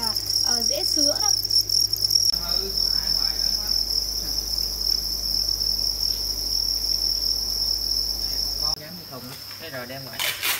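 Crickets bred at a Vietnamese cricket farm chirp in a loud, continuous high trill close by, with a steady hum underneath and voices talking over it at the start and end.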